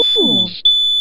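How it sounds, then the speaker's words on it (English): A household smoke alarm sounds indoors with a piercing, steady high-pitched beep that briefly breaks off and resumes, loud and close, while a voice speaks over it. "And the smoke alarms went off."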